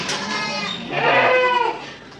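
Rajasthani Gujari-breed goats bleat at a goat farm, a drawn-out, wavering nasal call swelling loudly in the middle over a low background murmur.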